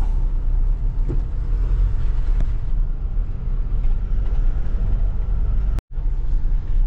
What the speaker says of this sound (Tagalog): Medyo traffic lang dun sa sa may ginagawang kalsada.